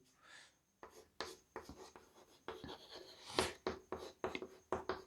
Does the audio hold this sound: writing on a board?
yes